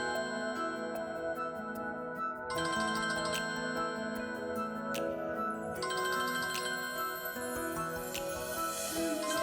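A melodic mobile phone ringtone plays for an incoming call in a Tamil TV drama scene, a continuous chiming tune with shifting notes, fairly quiet and steady throughout, with no talking.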